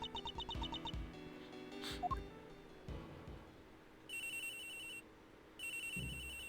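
A telephone rings in the Ace Attorney Investigations 2 video game, with repeated bursts of an electronic ringtone mixed with short game chimes and blips, fairly quiet and without talk.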